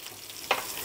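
Fish cake frying in a pan for Malaysian nasi goreng kampung gives a faint, steady sizzle with one brief louder burst of stirring.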